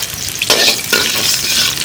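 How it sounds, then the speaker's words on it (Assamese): Garlic and chili hitting hot oil on an outdoor griddle give a loud, steady sizzle with crackling bursts and stirring scrapes, close up and with no talking. "এতিয়া প্ৰথমতে আমি অলপ ৰহুন আৰু জ্বালা দি দিছোঁ।"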